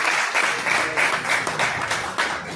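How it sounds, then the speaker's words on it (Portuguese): Applause from the floor of a municipal council session in Maragogipe, a dense steady wash of many hands clapping for about two and a half seconds, fairly close and loud with slight swells, no talk over it. "uma salva de palmas para ele"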